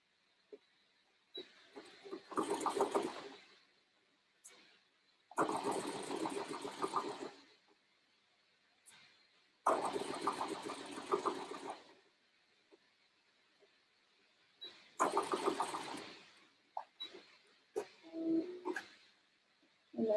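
A sewing machine stitches the shoulder seam of a child's dress from armhole to neckline, whirring in four separate bursts of a couple of seconds each with quiet pauses between them.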